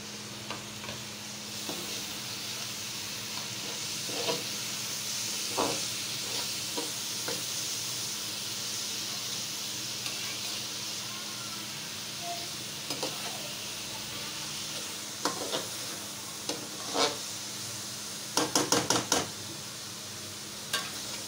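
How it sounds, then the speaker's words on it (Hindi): Onions sizzle softly and steadily in a pan over low heat, with scattered scrapes and clinks from a spoon stirring them. A cluster of rapid metallic taps comes near the end. "चम्मच चलाने के बाद हम इसमें प्याज ऐड कर देंगे"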